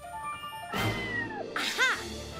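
A cartoon cat gives a short, bright meow with a rising-and-falling pitch in an animated adventure scene, following a sudden whoosh and clatter, heard fairly close and clear.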